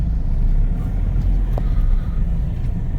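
Steady road traffic rumble near Puzhal market on a hot, sunny day, a continuous low engine drone with passing vehicles close by, no clear speech.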